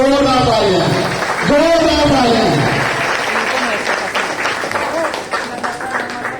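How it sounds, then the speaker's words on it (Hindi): An audience bursts into loud applause for the leaders at a gathering, with a voice and laughter over the start before the clapping carries on alone. "तो मैं चाहता हूँ तमाम लीडर के लिए जोरदार तालियां"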